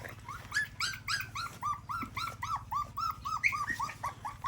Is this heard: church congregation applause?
no